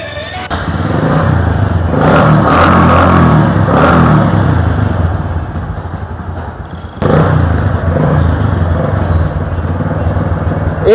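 A Bajaj CT 100 motorcycle restored to look like an RX 100, its engine running loud and close with a sustained rough revving drone that dips briefly, then resumes at a steady idle-like roar.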